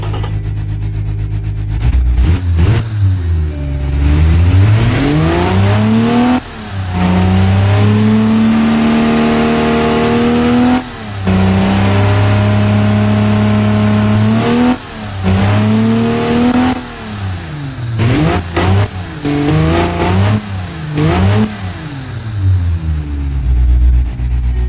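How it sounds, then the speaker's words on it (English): A 1947-style racing car engine in the games Automation and BeamNG revs repeatedly, pitch climbing and dropping between shifts, loud and close with brief lulls, no talking. "It's very noisy because it's a racing engine."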